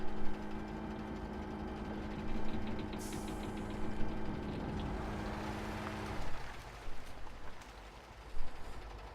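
A heavy off-road truck engine in Spintires: Mudrunner idles with a steady low drone and a tonal hum that drops off partway through, leaving rougher rumbling and faint clunks.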